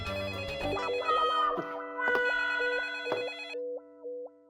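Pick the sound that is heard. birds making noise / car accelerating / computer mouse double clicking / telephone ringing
telephone ringing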